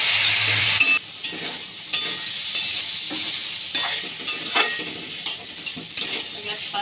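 Spices sautéing in hot oil for a Marathi dry matki (moth bean) bhaji, with a steady bright sizzle and repeated scraping stirs of a spoon against the pan, close and clear.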